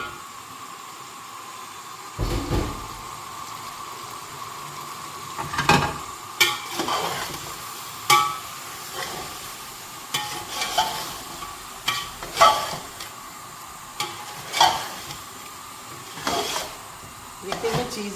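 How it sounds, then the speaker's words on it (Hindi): Pieces of meat go into a pan of frying cauliflower for a gobhi chicken dish, with a steady sizzle and repeated sharp scrapes and knocks of stirring close by; no one speaks. "ये देखें, गोश्त भी ये डाल दें साथ में"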